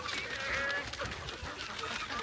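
Hens giving their pre-laying calls, a run of throaty honking clucks close by, steady for a couple of seconds with no other sound.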